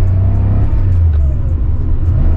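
A 1979 Porsche 911 Super Carrera Type G engine rumbles loudly up close as the gears change; the deep drone dips and sags midway, then builds back up.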